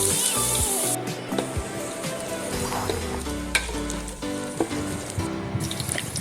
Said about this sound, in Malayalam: ചെറിയൊരു ഉരുളി അടുപ്പിലേക്ക് വെച്ച് കൊടുത്ത് എണ്ണ ഒഴിച്ച ശേഷം അതിലേക്ക് നമുക്ക് അരിഞ്ഞ് വെച്ചിരിക്കുന്ന സവോള അതിലേക്ക് ആഡ് ചെയ്ത് കൊടുത്ത്